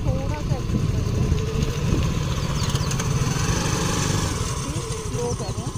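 Scooter engine revving as it crosses a rough, broken rocky road, a close, continuous buzzing putter that rises and falls with throttle, while a person talks over it.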